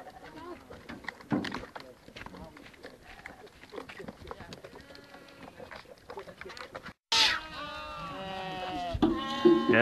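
Goats bleating on a mountain pasture after their morning milk, a loud burst of several overlapping cries in the closing seconds, following a stretch of busier mixed sound.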